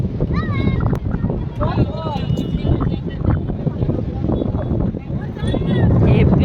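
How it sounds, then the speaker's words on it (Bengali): Steady, heavy wind buffeting the microphone outdoors at a river mouth near Digha, roaring throughout with people talking over it. "মোহনায় চলে এসেছি অসাধারণ হাওয়া দিচ্ছে"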